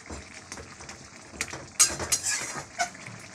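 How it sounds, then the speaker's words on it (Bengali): Metal utensil clinks and scrapes against a pot as fried prawns are added to cooking bottle gourd, a few sharp knocks and clatters spread over a few seconds, close and moderately loud. "এই যে চিংড়ি মাছটা ভেজে এর মধ্যে দিয়ে দেবো"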